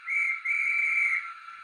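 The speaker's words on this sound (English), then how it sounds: "we've got a kinky whistle from the platform chap" A platform guard's whistle at a steam railway station sounds one long, loud, shrill blast that breaks briefly and then carries on steadily, with no talk.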